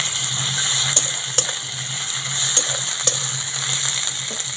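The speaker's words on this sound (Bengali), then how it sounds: "বাদামগুলো একটু ভেজে নিচ্ছি পেঁয়াজের সঙ্গে।" Peanuts frying with onion and garlic paste in a pan, a continuous close sizzle and crackle with a few sharp taps of the spoon against the pan, steady and fairly loud.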